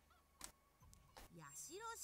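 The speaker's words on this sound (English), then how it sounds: "A chicken." A chicken in the video game Mini Ninjas gives a few short, honking squawks spaced apart, ending in a run of rising and falling bird calls, fairly faint.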